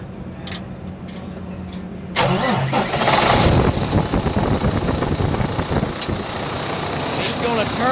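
A truck engine cranks over briefly and then fires up, settling into a loud, rumbling idle close by, while a person's voice is heard during the idle.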